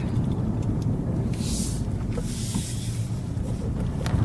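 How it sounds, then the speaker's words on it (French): Alfa Romeo Giulia Quadrifoglio with a 510 hp engine accelerating hard, its exhaust opening up in a steady, loud low roar mixed with heavy wind and road rush throughout. "Autre phénomène, on a l'échappement qui se libère. Et là, je peux vous dire que les 510 chevaux sont bien présents"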